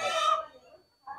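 Egyptian Fayoumi chickens on a farm, with a close, loud drawn-out clucking call that fades, then a short second cluck, no talk over it.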